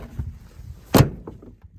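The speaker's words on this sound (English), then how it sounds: "I'm just trying to get the door shut." A single heavy thud as someone shuts the door of a 1963 Chevrolet Impala that has sat parked in an open field since 1972, a loud close slam standing out over faint background rustling.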